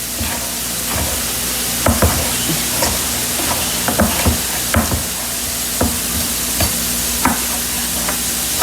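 Food sizzling steadily in a frying pan in a home kitchen while being stirred, with repeated sharp scraping clicks of the utensil against the pan over a constant loud hiss.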